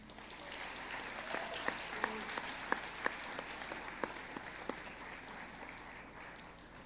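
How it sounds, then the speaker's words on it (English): Audience applause fills a high school senior awards ceremony to thank scholarship donors: sustained, dense clapping from a large crowd, with a few sharper individual claps rising above the steady wash for about seven seconds. "Please join me in applause in thanking our donors."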